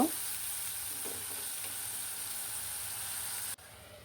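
Onions frying in a pan with ginger-garlic paste and salt, a steady close hiss of sizzling oil with a few soft stirring scrapes early on, dropping quieter near the end.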